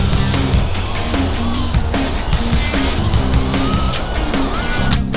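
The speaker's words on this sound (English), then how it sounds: "I like the sound the motor makes" Electric motor of a WLtoys 244016 mini 1/24-scale RC buggy driving nearby, a loud continuous buzzing whine with shifting pitch as it speeds and turns, no voices.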